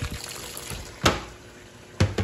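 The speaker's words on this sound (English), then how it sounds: "do you leave the faucet running throughout the whole entire wash?" Water running from a sink faucet into a Giantex portable washing machine, a steady wash of flow broken by a few sharp splashes or knocks.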